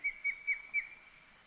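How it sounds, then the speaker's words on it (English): A series of four short, high-pitched whistling calls from an osprey, evenly spaced and fairly faint, with a thin steady tone underneath. "It is, of course, the beautiful ospreys."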